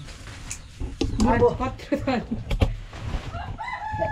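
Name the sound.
rooster crowing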